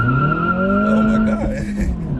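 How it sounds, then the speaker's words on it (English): A 2023 Acura Integra launching hard with wheel spin, its tires squealing in a loud, sustained wavering screech close by, with engine drone underneath. "First time had a bunch of wheel spin"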